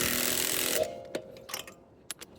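An impact gun on the special lug nuts of a 2019 GMC truck gives a loud sustained buzzing whir that stops abruptly, then a few sharp metallic clicks and clunks follow.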